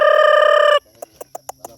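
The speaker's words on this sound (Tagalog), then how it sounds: "Mga manok no." Chickens near a backyard fishpond: a rooster's long, loud crow close by, then several short, sharp clucks spaced irregularly afterward, no talking.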